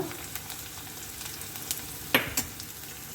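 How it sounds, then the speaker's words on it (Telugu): Onions sizzle in hot oil with a half spoon of asafoetida, heard close up as a steady hiss. A few sharp clinks and scrapes of stirring break through near the end. "ఉల్లిపాయలు వేగిపోయాయి బాగా"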